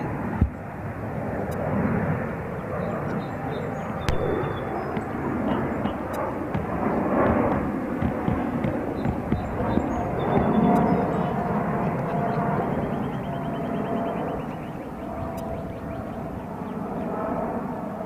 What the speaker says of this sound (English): This aircraft is a Boeing 787-9 Dreamliner.